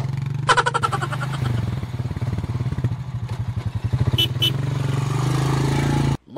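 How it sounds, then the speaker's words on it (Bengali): A cartoon fox rides up on a motorcycle, its engine a steady buzzing drone with pulsing revs that grows busier before cutting off abruptly at the end. "ওই দেখ, একটা শিয়াল মোটর সাইকেল নিয়ে আসছে"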